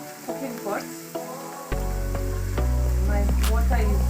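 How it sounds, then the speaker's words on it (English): Onions hit hot cooking oil in a pot while a Kenyan omena dinner is cooked, a sudden loud sizzle that holds steady and intensifies, with spoken voice before and over it. "I'm going to add my onions. My cooking oil is hot."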